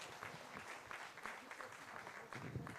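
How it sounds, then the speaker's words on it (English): A crowd at a district well-done function in Xhariep gives a round of applause for the developer of its programs, the clapping faint and distant but continuous, with a little murmur underneath. "Did you give him a round of applause for developing those programs?"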